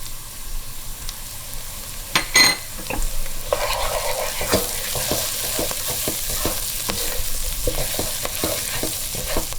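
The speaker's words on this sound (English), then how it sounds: "our onion, it's getting loosened, and it's time to add the turmeric" Onions fry with turmeric in a pan for a Persian spinach and prune stew, a close, crackling sizzle punctuated by repeated scrapes and a few sharper knocks of the spoon against the pan.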